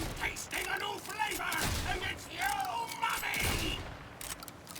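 Jakobs legendary shotgun from Borderlands 4 firing a few heavy blasts mixed with game effects, with someone talking over the shots throughout.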